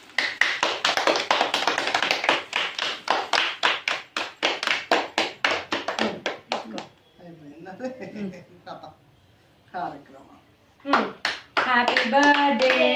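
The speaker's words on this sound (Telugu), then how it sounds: "చప్పట్లు కొట్టండి." Hands clap at a birthday celebration for a mother in a fast, steady burst of loud, close claps, then a pause with children and adults talking before clapping resumes.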